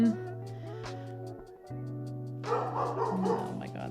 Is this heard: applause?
no